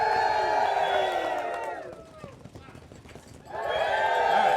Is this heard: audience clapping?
yes